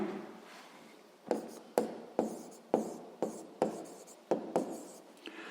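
A pen writes out a sixth-grade math exercise on paper, a series of about nine distinct scratchy strokes in a steady rhythm, close and fairly quiet with no voices.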